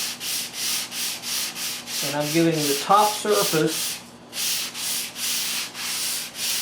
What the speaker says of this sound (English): the first sanding with ultrafine 220 grit paper.